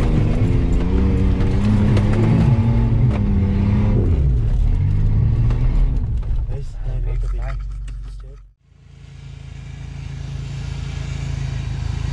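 An off-road car revs and accelerates along a dirt track, its engine loud and close with mechanical rattling, under people talking, before cutting off abruptly near the end.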